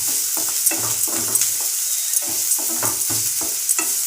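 Ginger paste sautés in a pan, a bright steady sizzle broken by repeated scraping strokes of a spoon, close and fairly loud, with no voices.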